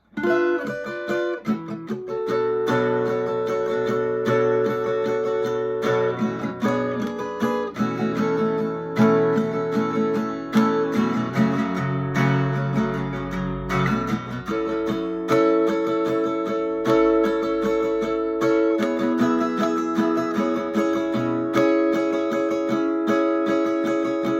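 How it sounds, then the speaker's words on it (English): Strummed guitar chords of a song ring out steadily over a full backing track, the rhythm continuous and loud throughout. "you can strum the song along to the track, and that sounds something like this."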